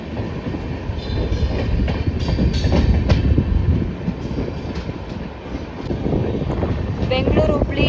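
Hampi Express train crossing at Kengeri station, a loud, steady rolling rumble with gusts of wind buffeting the microphone throughout and a few brief squeals toward the end.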